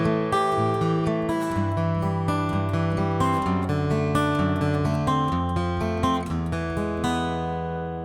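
An acoustic guitar plays the fingerpicked verse pattern of a song, with arpeggiated notes ringing over four bars, clear and close, ending on a sustained chord with no talking.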